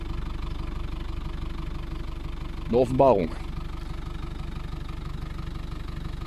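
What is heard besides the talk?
Mercedes engine idling with exhaust rattling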